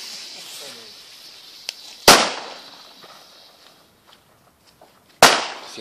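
A Leslie D-Böller firecracker with clay at both ends bursts twice, each a sharp close bang with a short decaying tail, against quiet outdoor background with faint talk early on.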